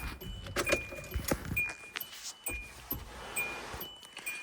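A bunch of car keys jangles in a series of bright metallic clinks and rattles, close by and irregular, with a faint electronic tone and handling noise inside a vehicle.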